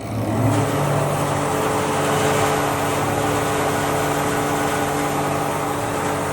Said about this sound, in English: And now you can turn on the pump here.